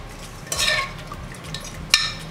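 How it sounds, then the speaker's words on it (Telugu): A spoon stirs a sizzling tempering into cucumber lentil dal in a pot, with a soft scrape and a couple of light metallic clinks against the vessel, close and quiet with no talk. "ఇప్పుడు ఈ పోపునంతా దీంట్లో కలుపుతున్నాం ఇలాగా"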